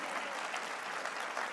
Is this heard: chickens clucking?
no